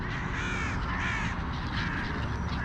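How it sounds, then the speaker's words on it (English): Several crows caw harshly in a quarrel at an urban bird-feeding spot in the evening, a quick run of overlapping, grating calls repeating close by with no speech. "Oh, a little crow fight over there in the corner."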